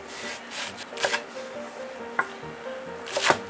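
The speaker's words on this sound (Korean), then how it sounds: "무도 얇게 대파는 반을 쪼개 주시고" Knife chopping radish and halving green onion on a cutting board: a few scattered, sharp cuts and rubbing strokes, close and moderately quiet, with a soft tonal hum in the background and no talking.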